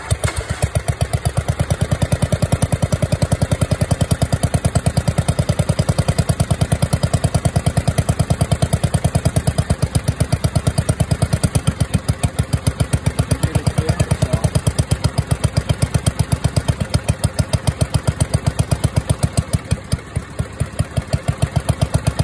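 A ride-on mower engine runs loud and close under throttle for the whole stretch, a steady, rapid mechanical throb with a rattling clatter and no voices.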